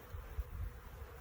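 Honeybees hum low and continuous around painted backyard hives, a soft close drone with slight swells and no voices.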